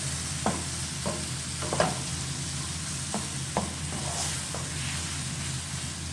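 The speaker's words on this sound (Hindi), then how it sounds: "अब हमने इसको इतना पकाना है कि टमाटर जो हैं वो अच्छे से सॉफ्ट हो जाएं।" Finely chopped tomatoes cook in a pan for pizza sauce, giving a low steady simmering sizzle with occasional spoon knocks and stirring scrapes spread through.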